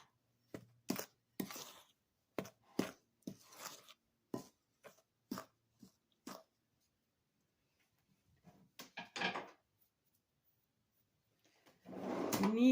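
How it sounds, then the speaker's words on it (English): Dry ingredients and yeast for a Swiss Three Kings Cake dough being mixed in a bowl, a run of sharp, separate scrapes and knocks, then a brief rustling burst and a louder scraping at the end, with quiet pauses between. "We're now mixing this up, all the dry ingredients."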